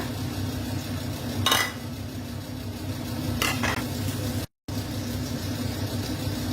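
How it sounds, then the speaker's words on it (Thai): Garlic stir-frying in a pan, a steady sizzle with a couple of scraping spatula stirs against the metal. The sound is continuous and close, broken once by a moment of silence. "เอากระเทียม ลงไปผัดให้หอมนะคะ"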